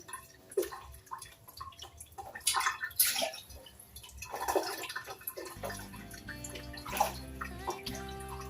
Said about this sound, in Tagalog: Ako kasi inugasan ko yung malunggay.